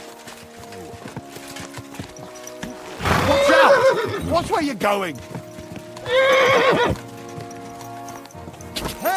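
Horse hooves and whinnies in Kingdom Come: Deliverance II, heard during a medieval siege camp scene, with loud bursts of horse neighing and clopping around raised voices shouting and talking.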